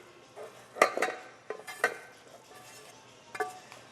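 Mixing ingredients with olives in a bowl produces a few sharp utensil clinks and scrapes against the dish, in scattered bursts that are moderately close, with no talk over them.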